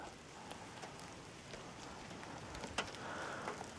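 Scattered water drips patter irregularly from wet tree branches over a soft, hissing wet background on a remote Forest Service road, with one sharper drop standing out near the end.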